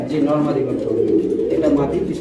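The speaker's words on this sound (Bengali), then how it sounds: "এটা হচ্ছে নর কবুতর এটা হচ্ছে মাদি কবুতর" King pigeons coo in low, throaty murmurs close by, with a steady stream of cooing lasting about two seconds while voices blend in underneath.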